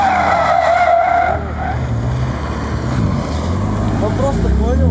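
Tires screeching loudly as a car accelerates and skids sideways while drifting, engine revving throughout on a track session with a BMW M2 CS or Nissan Silvia S14, with people talking over the noise.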